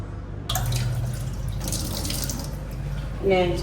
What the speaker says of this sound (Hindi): अब चल के बर्तन वॉश करते हैं।